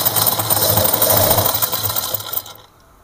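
Sewing machine stitching dori piping onto fabric, a loud steady mechanical whir that runs continuously for a couple of seconds and then abruptly stops, leaving near silence.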